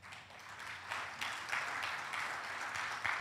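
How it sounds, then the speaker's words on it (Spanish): Congregation at a church service applauding, a dense wash of many hands clapping together that swells and continues steadily at moderate volume with a few sharper claps standing out. "Yo que usted le diera un aplauso al Señor."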